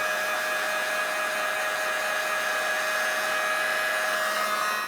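A heat gun runs with a steady, continuous blowing whine while warming the nameplate adhesive on a 2000-2006 Chevrolet Tahoe liftgate, close and loud for the whole stretch, cutting off at the end.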